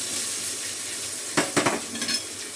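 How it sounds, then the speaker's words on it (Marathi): Vegetables go into hot oil in a kadai, first as a steady faint hiss, then a few sharp sizzling bursts and clinks as they hit the pan and get stirred, with no one talking. "आणि इथे दुसरी भाजी टाकते"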